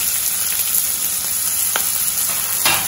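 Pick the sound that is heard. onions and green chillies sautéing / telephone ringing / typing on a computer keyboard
onions and green chillies sautéing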